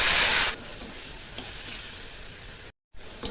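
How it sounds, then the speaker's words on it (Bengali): Whole cumin, two small bay leaves and chopped tomato hit hot oil for a paneer and potato masala, bursting into a loud hiss that settles into a steady, softer sizzle with brief stirring scrapes. "এখন এই তেলে দিয়ে দেবো গোটা জিরে, দিয়ে দেবো ছোটো দুটো তেজপাতা, দিয়ে দেবো কেটে রাখা টমেটোটা"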